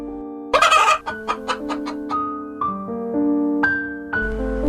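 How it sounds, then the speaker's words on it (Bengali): A cartoon hen clucks and squawks in a burst of sharp calls, followed by a series of short clucks and a few drawn-out notes nearby. "কি মুরগি এনেছো তুমি?"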